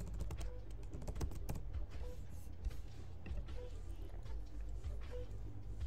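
Typing on a computer keyboard while naming a Black Panther mask image file, a quick run of clicky keystrokes that starts and stops over a low background hum.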